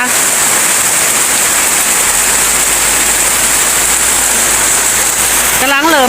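Heavy storm rain pours onto farm fields in Thailand, a loud, dense, unbroken hiss of downpour that stays close and steady throughout.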